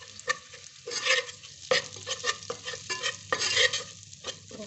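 Besan being roasted in a pan over very low heat and stirred: soft sizzle under a series of distinct scraping strokes, close and fairly quiet, with brief pauses between stirs and no voices.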